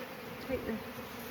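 Honeybees buzz close by around a packed hive, a soft continuous droning hum with slight swells, faint and alone.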